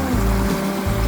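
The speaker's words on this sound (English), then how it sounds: "Crystal clear mountain water. Tumbling waters." Clear mountain creek water at Tuttle Creek tumbles in a steady, close rushing wash with a low rumble underneath, continuous through the brief moment.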